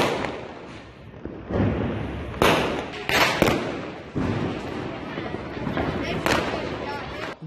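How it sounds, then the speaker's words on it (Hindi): Diwali fireworks and firecrackers burst repeatedly across Delhi, a dense run of loud cracks and booms over a rumbling background, with voices faintly beneath. "दिल्ली में इस वक्त जमकर आतिशबाजी जो है वो हो रही है।"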